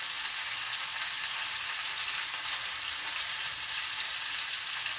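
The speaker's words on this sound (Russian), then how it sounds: "И продолжаю обжаривать." Fish seasoned only with salt and onion fries in a pan, producing a steady, even, soft hiss of oil sizzling without a break and with no voices.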